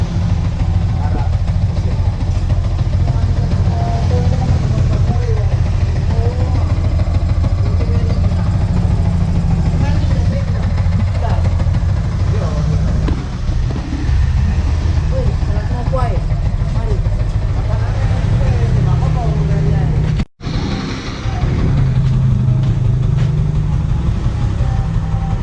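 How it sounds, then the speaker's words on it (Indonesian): A Yamaha Vixion R motorcycle engine idles while fed from an external fuel bottle, its coughing fault noted. It holds a steady, close, low rumble that runs continuously, with one brief dropout near the end and voices faintly underneath. "Mesin udah dihidupin"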